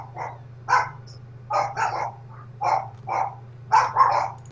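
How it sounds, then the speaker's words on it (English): Several dogs bark in short, repeated bursts, some doubled, over a steady low hum, fairly close and clear with no talk. "The dogs, they're barking at whatever they fucking want."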